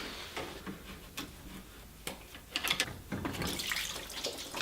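Engine coolant drips and trickles from the radiator drain of a Mk1 Volkswagen Rabbit, a quiet irregular patter of drops that grows into a denser splashing toward the end.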